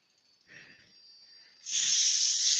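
120 grit sandpaper works over a bedside reading lamp, starting with a couple of soft, brief rubbing strokes and then settling into a louder, steady, close hiss.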